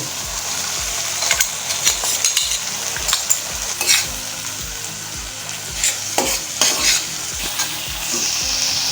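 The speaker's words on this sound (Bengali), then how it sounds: "এবার এই মিক্সি ধোয়া জলটা আমি এর মধ্যে দিয়ে দেব।" Spiced masala paste fried in oil for egg tikka masala sizzles steadily as rinse water from the mixer jar is poured in, with scattered spoon scrapes and stirring clatter over a continuous hiss.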